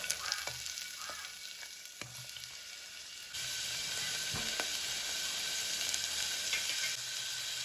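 Mutton kulambu ingredients sautéing in a pan, a continuous loud frying sizzle that rises sharply partway through, with occasional stirring scrapes and no talk.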